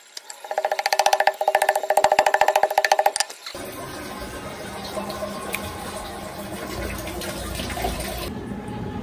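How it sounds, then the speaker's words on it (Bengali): Tap water runs while cut fish is rinsed: first a rapid rattling, splashing burst of washing, then a steadier softer stream of flowing water, close and moderately loud with no talk. "মাছ কেটে ধুয়ে নিলাম।"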